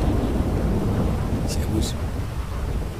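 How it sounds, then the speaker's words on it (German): Steady rain pours with a low rolling thunder rumble in the video game Grand Theft Auto V, loud and continuous, while someone speaks a short phrase over it. "Regnet ja gerade ein bisschen, ne?"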